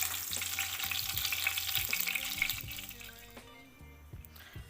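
Ingredients frying in ghee in a pan while making seviyan kheer: a busy crackling sizzle with light stirring clatter, loud at first and then thinning out toward the end.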